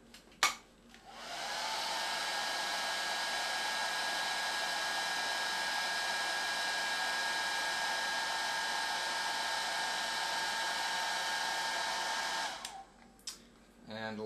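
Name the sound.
heat-shrinking black tube on Zener regulator lead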